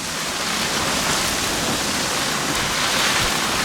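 Heavy rain pours down during an English summer, a dense, continuous hiss of water hitting surfaces close by, loud and unbroken from start to finish.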